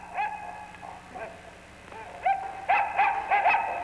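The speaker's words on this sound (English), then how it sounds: "In 1940, Electro was joined by his faithful dog, Sparko." A mechanical robot dog from 1940 gives a series of short yipping barks and whimpers, about a dozen spaced irregularly and growing louder toward the end.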